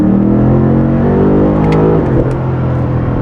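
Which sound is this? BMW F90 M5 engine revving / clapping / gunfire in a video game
BMW F90 M5 engine revving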